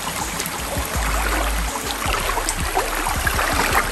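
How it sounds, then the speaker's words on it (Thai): A clear stream fed by a waterfall rushes over rocks beside a fruit orchard, a steady broadband wash of flowing water with a deeper rumble and scattered low knocks. "ตรงนี้จะเป็นน้ำที่ไหลแรงสักนิดหนึ่งนะคะ"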